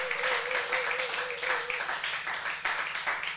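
A church congregation at a Christmas service claps in a short, fairly quiet burst of applause, with a sustained tone and a voice faintly underneath.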